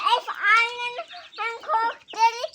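Chickens in a city garden give loud, close clucking calls in quick, uneven bursts, with short gaps between them.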